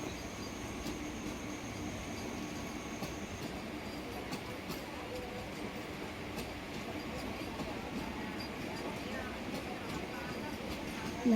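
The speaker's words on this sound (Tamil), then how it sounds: "வந்தே பாரத் ட்ரெயின் போகுது" A Vande Bharat express train rumbles steadily past at close range near Arakkonam, a continuous low roar with faint clatter throughout.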